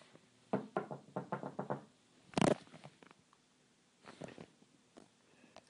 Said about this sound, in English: I'm gonna knock on her wall.